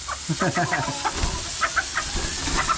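Chickens in a coop cluck and squawk in an agitated flurry, several birds calling in short repeated bursts close by, with rustling and scuffling underneath.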